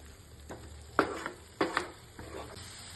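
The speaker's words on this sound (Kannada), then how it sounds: "ಲೋ ಫ್ಲೇಮಲ್ಲಿ ಇಟ್ಕೊಂಡು ಮಸಾಲಾನ ಚೆನ್ನಾಗಿ ಫ್ರೈ ಮಾಡ್ಕೋಬೇಕು" Masala frying in a pan on low flame for egg masala, a soft steady sizzle with a few sharp spoon-stirring scrapes and clinks.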